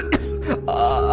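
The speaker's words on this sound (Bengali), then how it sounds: "আপনি কাশছেন কেন?" A cartoon beggar gives a short raspy cough and throat clearing, close and dry, followed by a faint sustained tone in the background.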